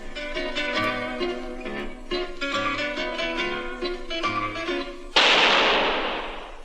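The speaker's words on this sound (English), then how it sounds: "That was the shot that killed Harry Lime" A single loud, sharp gunshot effect in a 1951 radio drama breaks in abruptly after zither music and rings out with a decaying tail.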